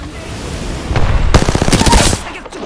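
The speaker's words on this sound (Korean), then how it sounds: "사격 중." Automatic weapon fire from an Apex Legends match, starting with a quieter spell of shots, then a loud close burst of rapid rounds and a short thump before fading.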